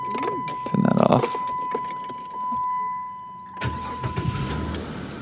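A car engine cranks and fires up, settling into a steady idle, with a brief chime tone and jangling keys before the start and some handling noise around it.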